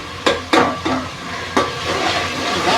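Salted onions soften in a hot pan as a utensil stirs them, a few sharp scrapes and clanks against the metal over a soft, continuous sizzle.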